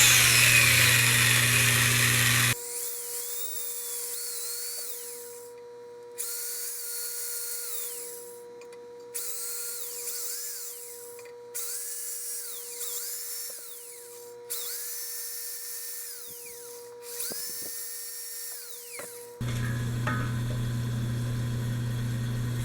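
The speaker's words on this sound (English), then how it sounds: "I have an angle drive drill motor. I'm going to start with a center drill and try to put a mark in the center of the bolt." An angle drive drill motor center drills a frozen axle bolt on a Wheel Horse Model 401 tractor, whining in about six separate bursts with short pauses between, close and steady, framed by louder broadband noise at the start and end.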